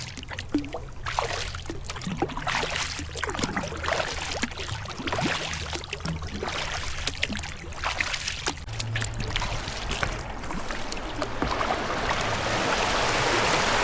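Fast, high Saint Lawrence River current heard from a kayak, rushing water and broken waves washing steadily and close, growing fuller toward the end.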